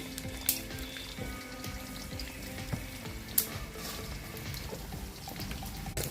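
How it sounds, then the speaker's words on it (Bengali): Potato pieces and poppy seeds fry quietly in a pan, a soft low crackle with occasional faint pops and clinks, fairly subdued throughout. "পোস্তগুলো ভেজে নেব আলুগুলো দিয়ে দিচ্ছি"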